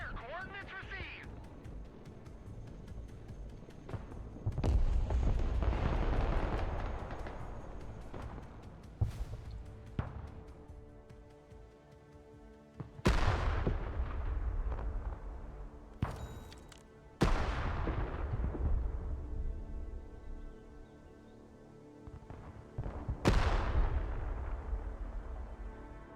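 In the video game Broken Arrow, a mortar vehicle fires artillery in several loud, booming blasts spaced a few seconds apart, each followed by a long rumbling decay, with a voice talking between the shots.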